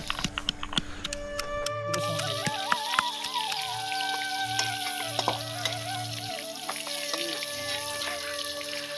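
Jackfruit pieces frying in a pan, giving a continuous crackling sizzle close by with scattered pops, running under an intermittent low hum and a tonal whistling background.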